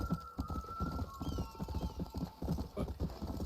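A horse gallops in Red Dead Redemption, its rapid hoofbeats drumming steadily up close with a brief whinny, alone without talk.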